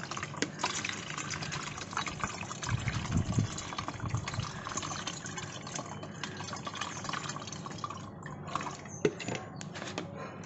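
Water poured over a silk net drains down into a bucket as moina are rinsed off, a soft, steady, quiet splashing trickle with a slightly heavier gush partway through.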